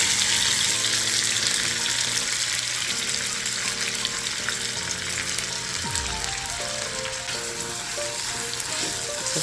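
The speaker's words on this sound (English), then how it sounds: "You're gonna put the oil in. We're gonna put our seasoning in." Seasoning frying in hot oil in a skillet, a loud continuous sizzle with some stirring and scraping, heard close with no talking.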